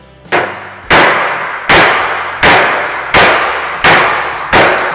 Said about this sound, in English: I'm gonna hammer directly on the backside of that crease.